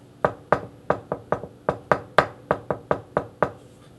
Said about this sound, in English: You hear a knock at the door.